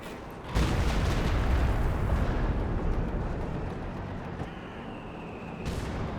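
A Siege Barrage artillery strike in Company of Heroes 2 erupts suddenly into a loud, sustained roar of explosions. The roar slowly fades and rumbles on, and a second sharp blast lands near the end.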